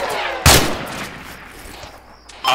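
A loud burst of Arma 3 video game gunfire cracks out and trails off into rumbling noise, with another shot starting just at the end.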